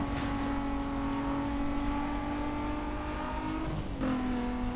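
A racing car engine in Need for Speed Most Wanted (2005) drones steadily and loudly, with a sustained high whine and a brief gear-shift dip near the end, heard alone.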